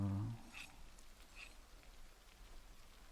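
Soft, quiet rain in the video game Project Zomboid patters evenly throughout, with a short low thump at the start and a few faint high ticks.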